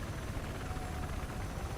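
Helicopter in the video game Battlefield 6 gives a continuous, loud rotor drone with dense low thumping that holds steady throughout, with no voices.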